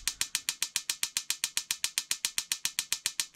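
Clicker igniter on the Suburban oven in a Flagstaff E-Pro E20BHS camper, lighting the pilot light: a fast, steady train of sharp, bright clicks, about six per second, close and fairly quiet, with no talking.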